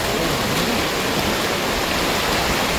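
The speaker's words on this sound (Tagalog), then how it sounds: "Lakas ng agos" A dense, continuous roar of a strong rushing river current at Pagsanjan Falls, Laguna, loud and close, steady throughout with no voices over it.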